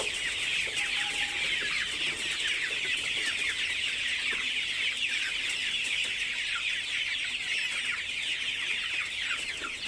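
Thirty-two-day-old Sonali hybrid chickens cluck and chatter in a crowded poultry shed, a dense, continuous flock noise close by with no talk.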